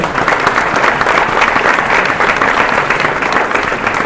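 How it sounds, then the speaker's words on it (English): A conference audience applauds three panelists at the close of a travel-tech panel on machine learning and AI, dense even clapping sustained loudly throughout. "I want to have a big round of applause for our three panelists here"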